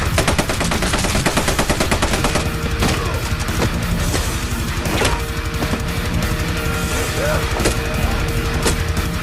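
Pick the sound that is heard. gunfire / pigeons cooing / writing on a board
gunfire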